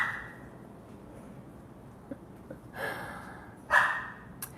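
A small dog gives a few short, high-pitched, yappy barks, faint and spaced apart over a quiet background hiss.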